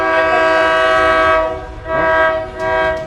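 A train nearing a railroad crossing blasts its horn in two long, loud, close calls with a short dip between, then a third starts, over a steady rolling rumble.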